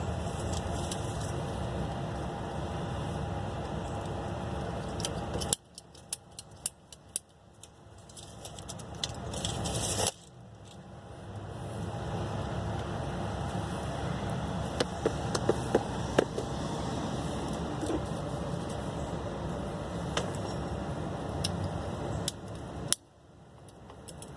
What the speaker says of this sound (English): Got our little cutter. We'll cut this pipe.